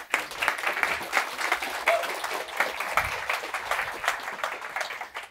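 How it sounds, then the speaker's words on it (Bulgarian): A seated audience applauds a speaker at a talk, a dense, even wash of many hands clapping that holds steady for about five seconds before fading at the end. "във всеки случай аплодисменти за Светлин."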